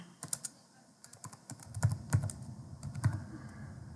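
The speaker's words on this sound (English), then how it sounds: "So I'm going to type here principal." Computer keyboard typing, close and fairly quiet, an irregular run of clicking keystrokes with brief pauses and a few heavier presses, no talk.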